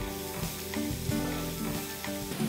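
Onions and tomatoes sautéing in a pan for drumstick leaf soup, a continuous close sizzle with occasional stirring scrapes.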